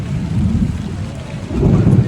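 Heavy rain pours steadily while low, rumbling thunder swells and fades beneath it, with no voices.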